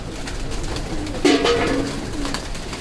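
Domestic pigeons cooing close by on a rooftop loft, a steady run of soft throaty coos that swell briefly in the middle, with no talk over them.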